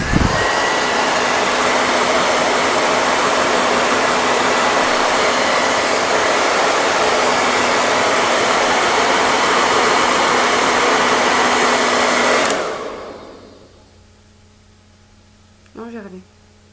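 A hair dryer blows steadily while drying a painted cosplay phone prop, a loud continuous rushing whoosh with a steady hum for about twelve seconds before switching off and fading, followed by a brief voice.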